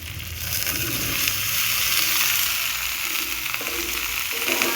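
Cut ridge gourd goes into a pan of sizzling ground spice paste, a loud, dense, continuous hiss and crackle of frying that holds steady close up.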